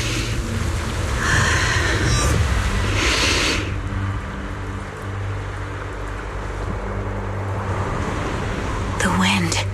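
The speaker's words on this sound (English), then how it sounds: "The wind." Wind gusts and rumbles steadily in the Zenless Zone Zero video game, a loud, broad whooshing bed with brief brighter swells early on, with a voice heard at the very end.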